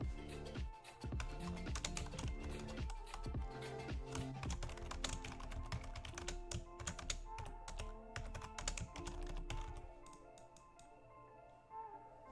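Rapid close keystrokes clatter on a computer keyboard for about ten seconds, with a dense run of tapping that thins out into a few last clicks.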